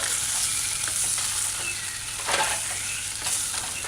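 Pork and broccoli in oyster sauce stir-frying in a wok, a steady hissing sizzle throughout with soft scraping stir strokes rising over it now and then.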